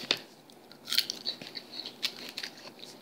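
People chewing and biting into food while eating lunch, giving soft, irregular crunchy bites and mouth sounds at close range, with no talking.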